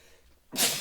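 A single sharp sneeze up close, a sudden breathy burst after a quiet moment.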